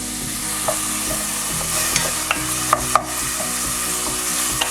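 Carrots and garlic fry together in oil with a steady sizzle. Several sharp clacks of a utensil against the pan cut through the sizzle at irregular moments.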